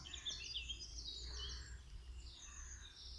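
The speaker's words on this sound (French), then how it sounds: "je me suis installée dans le jardin pour vous partager les chants des oiseaux" Birds chirp and sing faintly in the distance in a garden over a low outdoor rumble, with several thin, high calls overlapping.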